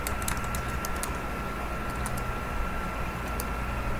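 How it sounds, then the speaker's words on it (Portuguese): Keyboard typing while Java-style socket code for a data output stream is entered on a computer, as an irregular run of soft clicks over steady background hiss, with no talking. "Então vamos aqui digitar no nosso código"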